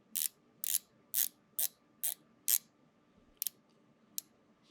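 Distinct ratcheting clicks from the rotating bezel of a dive watch with a 120-click bezel, an Omega Seamaster Professional 300 or Breitling SuperOcean II 44mm, come in a run of six evenly spaced clicks, then three sparser, fainter ones, close and crisp in a quiet room.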